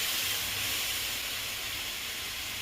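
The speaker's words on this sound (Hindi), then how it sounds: "ये मसाला को मैं इसमें डाल रही हूँ। इसे भी मैं अच्छी तरह भून लेती हूँ।" Spice masala frying in hot oil over a low gas flame while chaat is being cooked, giving a steady, close broadband sizzle and hiss that runs unbroken throughout with no talk.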